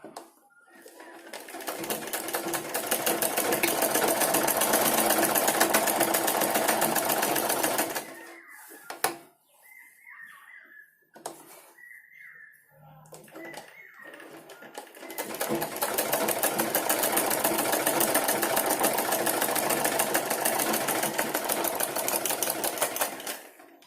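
A sewing machine stitches a blouse in two long, loud, steady runs of rapid whirring, with a quieter pause between them where a voice speaks and small clicks and handling noises are heard.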